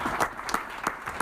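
Light, steady applause from a convention panel audience, with a few sharper claps standing out at regular moments over a continuous patter of hands.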